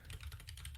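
Typing on a computer keyboard during an online session, a quick run of light key clicks close to the microphone, with no talking.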